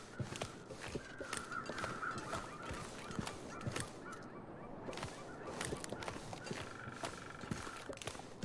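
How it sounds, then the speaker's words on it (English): Crows caw repeatedly in a foggy outdoor scene in the survival game The Long Dark, several rough calls scattered over a constant airy ambient bed, moderately close and never spoken over. "I hear the crows out"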